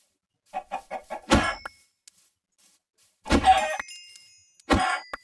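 Chickens in the video game Minecraft cluck in short bursts: a quick run of four soft clucks, then a louder squawk, and two more clucking bursts after a pause, close and clear with no talk.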